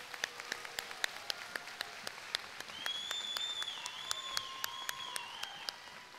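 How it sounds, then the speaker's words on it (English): Sparse, rhythmic claps from a crowd at an eighth grade graduation ceremony, fairly distant and quiet, with high whistles rising over them partway through. "Let's give them a nice round of applause."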